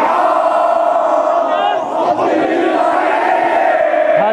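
Football crowd roaring continuously in celebration at Al-Basel stadium after Hutteen's one-goal derby win over Tishreen in Latakia, a dense, loud wall of massed cheering and chanting with a brief dip midway.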